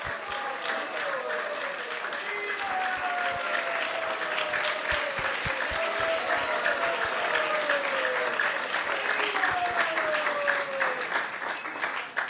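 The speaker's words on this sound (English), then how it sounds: "So let's give them a big round of applause for coming here." Sustained audience applause at a spiritual gathering of devotees, dense steady clapping that fills the room for about twelve seconds with no talk over it.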